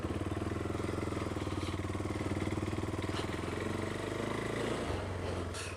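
A KTM 390 Adventure single-cylinder motorcycle running on a chilly sunny ride, heard as a steady, close, throbbing engine drone with a faint rev change near the end and no talk.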